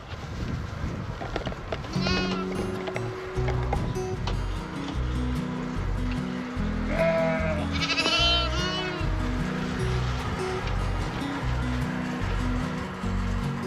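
Lambs in a farm pen bleat close by, several wavering calls that cluster in two bursts over a steady, droning low background, with other bleats scattered faintly throughout.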